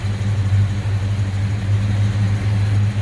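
A 1971 Chevrolet Chevelle Heavy Chevy tribute muscle car idles close by with a deep, steady low rumble, loud and even, with slight pulsing from the engine and no speech.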